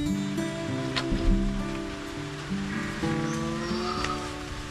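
Steady rain falls around a home in the Philippines under a hazy, overcast sky, a dense wash of patter and drips, with faint tonal sounds running through it.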